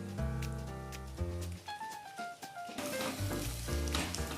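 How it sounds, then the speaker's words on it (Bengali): Ginger paste and softened tomato sautéing in a pan for a mutton masala, a steady sizzle and crackle running throughout with background music over it. "এবার আদাটাকে ততক্ষণ পর্যন্ত কষাবো যতক্ষণ না আদার কাঁচা গন্ধটা চলে যায়"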